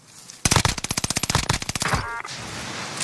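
A rapid automatic burst of gunfire in the video game Warzone, loud and close, with about twenty quick evenly spaced shots over a second and a half, then a fading echo.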